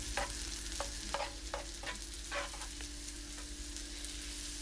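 Garlic sautéing in melted butter in a pan, a soft constant sizzle with a low hum beneath and a run of regular spatula scrapes, fairly quiet and without speech.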